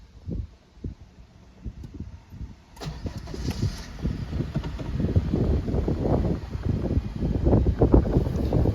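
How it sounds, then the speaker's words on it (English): An Acura RSX base model with a swapped Honda K20Z3 engine is push-button started, cranking and then catching into a rumbling, pulsing idle that builds in loudness close by. "let's start it up real quick so you guys can hear how it runs"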